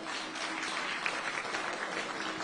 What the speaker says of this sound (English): I think the discussants deserve a great round of applause.